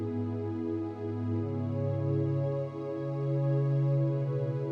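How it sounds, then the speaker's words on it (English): A synth pad holds sustained chords that follow an organ part, a smooth warm wash swelling slightly as the chords change, heard alone and close without talk. "So this was the synth pad I added on its own."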